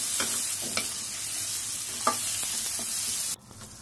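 Onions and capsicum fry in a pan for restaurant-style chilli chicken, a steady close sizzle broken by a few sharp stirring scrapes, then cutting off abruptly near the end to a quieter hiss.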